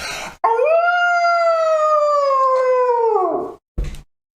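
A person imitates a wolf howl with the voice: one long, sustained, loud howl with a rising onset and a falling tail, followed by a brief breath or noise burst.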